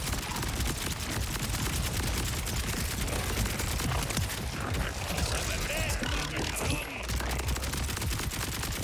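Sustained rapid gunfire from a large-magazine gun in Borderlands 4, a dense continuous spray of shots that runs loud through the whole stretch, with voice faintly underneath.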